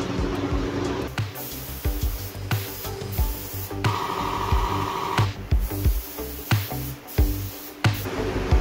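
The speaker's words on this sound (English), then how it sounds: "We're gonna go ahead and start spraying." A spray gun lays paint on a white car in a series of close, loud hissing bursts separated by short pauses, with no talk.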